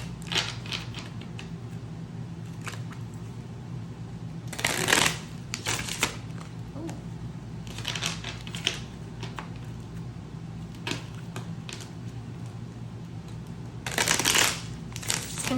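Oracle cards from an Inquire Within deck are shuffled in repeated bursts of riffling, flapping card noise, close and fairly loud, broken by quieter pauses with faint handling clicks and no talk.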